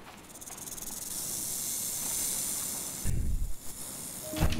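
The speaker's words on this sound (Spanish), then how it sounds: "Suena a serpiente." Snake hissing in the survival video game Stranded Deep: a steady, loud broadband hiss runs for about three seconds, then breaks into brief low thumps and a short tonal blip.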